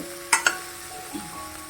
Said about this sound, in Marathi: फोडणीत पूर्ण व्यवस्थित भाजी परतून कालवून घ्यायची